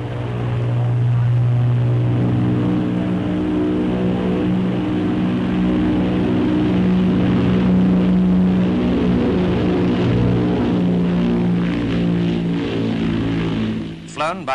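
Engines of the 130-ton Bristol Brabazon 1 transoceanic airliner at London Airport, a steady loud droning roar with a constant low hum that carries unbroken for about fourteen seconds.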